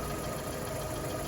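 A Fiat 500 Pop engine runs steadily at a fast idle, a dense, continuous mechanical drone that stays loud and even throughout.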